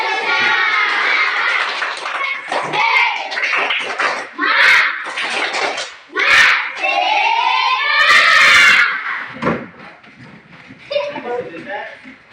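Schoolchildren at an elementary school in highland Papua clap their hands together in rhythmic bursts and chant together in a classroom, with lively children's voices mixed through the clapping.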